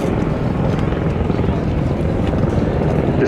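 An Army Air Corps attack helicopter flies a display at the Duxford Summer Air Show, its rotor and turbine drone loud and steady throughout while a commentator speaks over it.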